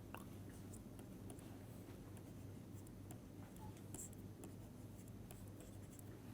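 Writing on a board during a physics lecture, heard as faint intermittent scratches and taps over a steady room hum, with no talk.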